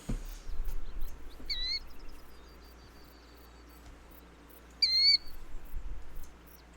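Bird calls in The Hunter video game, two separate bright, short whistled chirps a few seconds apart over a quiet ambient forest backdrop.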